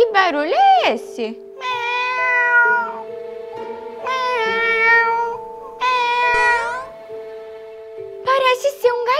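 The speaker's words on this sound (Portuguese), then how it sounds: "Parece ser um gatinho." A lost kitten in a forest meowing, three long plaintive meows in a row, loud and near, with a speaking voice before and between them.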